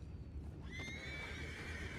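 Horses neigh and whinny in Red Dead Redemption 2, one clear whinny rising over low, steady background rumble with faint hoof clip-clop, fairly quiet and without speech.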